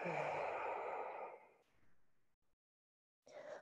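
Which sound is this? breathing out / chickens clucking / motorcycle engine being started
breathing out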